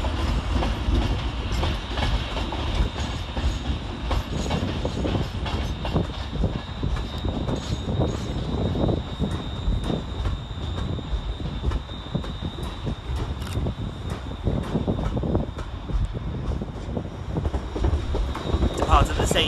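ScotRail class 380 electric unit 380002 pulling into Glasgow Central on a terminating service from Ayr, a steady rumble of wheels with clicking over rail joints and faint high squeal under the station's echo.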